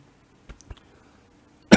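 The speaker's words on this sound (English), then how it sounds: "Been having a cough last few days." A man coughs on a live talk show, with two small muffled coughs followed by a louder, sharper burst close to the microphone.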